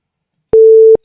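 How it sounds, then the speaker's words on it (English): A buzzer in a PIC16F877A microcontroller washing machine simulation sounds once as a loud, pure steady tone lasting about half a second, with clicks at its start and end and silence around it. "the buzzer gets on"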